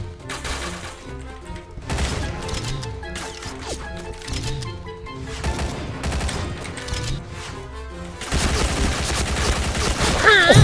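P90 gunfire in PUBG, a rapid stream of shots layered over a game soundtrack with steady musical tones, the bursts rising and falling in intensity across the whole stretch and growing loudest at the end.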